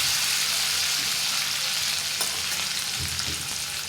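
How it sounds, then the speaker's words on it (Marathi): Curry leaves and garlic fry in oil in a pan for a radish pod dish, giving a steady, close, dense sizzle throughout with a few light stirring scrapes. "कढीपत्ता घालूया. परतून घ्यायचं आहे व्यवस्थित."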